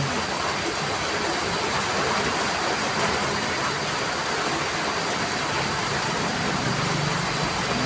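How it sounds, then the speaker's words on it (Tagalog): Heavy rain pours steadily and loudly during a storm, a dense unbroken roar with no pauses and no voices. "Lakas ng ulan naman"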